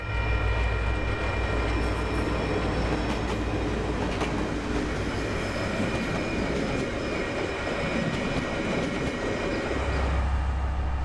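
The Northern Explorer passenger train rolls by slowly and steadily near Auckland, New Zealand, under a 40 km/h speed restriction, a loud continuous rumble with rhythmic wheel clatter and faint metallic squeals close by.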